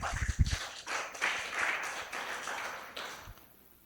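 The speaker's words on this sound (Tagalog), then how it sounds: "Lahat ng naniniwala, pumalakpak nga ng malakas." A church congregation at a Filipino sermon on generosity applauds loudly on cue, a dense wash of clapping that swells briefly and then fades out over a few seconds.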